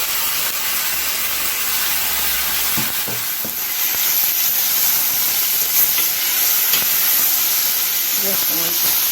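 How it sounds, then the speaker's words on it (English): Ackee and saltfish hitting hot seasoning in a pan, a loud continuous sizzle and hiss that swells after they go in, with a few soft clatters near the end. "adding my ackee and saltfish"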